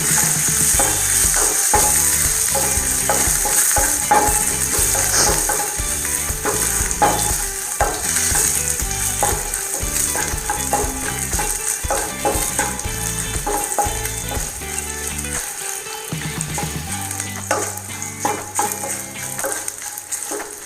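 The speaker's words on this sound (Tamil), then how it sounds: "நல்லா கொஞ்சம் முறுமுறுன்னு வர அளவுக்கு இதை வந்து ஃப்ரை பண்ணி எடுத்துக்கலாம்" Puffed rice being stirred and fried in coconut oil until crisp for spicy kara pori: a steady, close sizzle with constant scraping and stirring that runs the whole way through with no talk.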